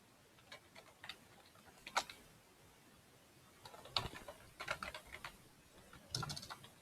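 Keys clicking on a computer keyboard as a first name, last name and email address are typed, coming in short irregular bursts of soft, close taps with brief pauses between.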